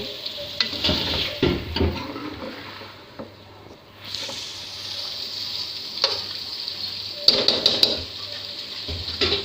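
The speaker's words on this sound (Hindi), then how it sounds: "अब हम इसे थोड़ी देर और भूनेंगे।" Namkeen gosht mutton sautés in ghee with a loud, close sizzle, punctuated by repeated spoon scrapes and clanks against the pot, briefly quieting before the frying swells again.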